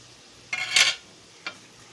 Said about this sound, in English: Time for the vegetables to go into the skillet.